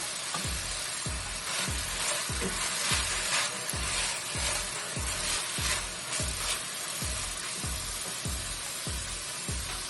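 Vegetables for Hakka noodles sizzle hard in a hot pan over medium heat while a utensil stirs them in quick, regular strokes, about two per second, loud and close throughout.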